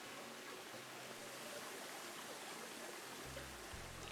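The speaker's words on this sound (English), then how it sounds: "So we've got a nice little waterfall." A gentle waterfall flows steadily in the video game Planet Zoo, a faint, continuous rushing wash with no talking, and a low hum briefly rising near the end.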